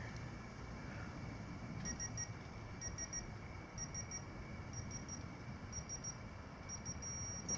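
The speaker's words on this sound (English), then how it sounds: "So it should beep when we get to 11 though" Digital torque wrench on a KLX140 cylinder head install sounding a short series of faint, high, repeated electronic beeps in pulsed groups over a steady low hum, with no voices.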